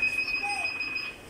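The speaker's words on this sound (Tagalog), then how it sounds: "so maririnig nyo, nagbibip ito. Kasi yung klaseng coin slot ito is nagbibiping kasi yan." A coin slot on a wifi vending machine beeps as a coin goes in, giving a single steady electronic tone that lasts about a second over faint background noise.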